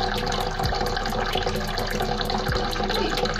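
Tap water runs in a thin, weak stream at a kitchen sink used for washing dishes, a steady soft hiss and trickle continuing throughout at close range with no talk.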